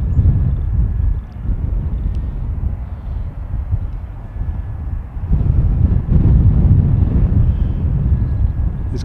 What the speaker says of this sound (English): There's quite a lot of wind